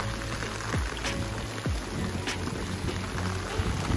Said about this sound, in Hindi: गाइस बहुत तेज बारिश होती हुई है ना, बहुत तेज।